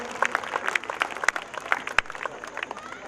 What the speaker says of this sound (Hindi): तो इनको भरपूर तालियां